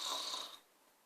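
A person gives one short, breathy imitation of a snore, a raspy inhaled rumble lasting about half a second before trailing into quiet.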